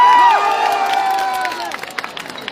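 A crowd at a farmers' meeting in Botad cheers and applauds for Rajubhai, a loud swell of shouts and whoops with a whistle-like tone that fades into scattered claps.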